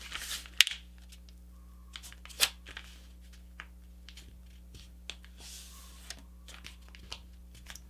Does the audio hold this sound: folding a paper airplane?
yes